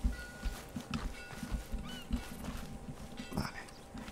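A horse in the video game Red Dead Redemption 2 walks with irregular hoof clip-clops and rustling, with a brief whinny or snort in the middle, fairly close and alone without talk.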